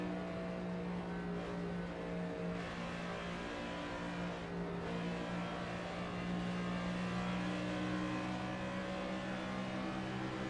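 Race car engine in a racing video game revs steadily, with a continuous droning, buzzing tone that rises and falls slightly throughout.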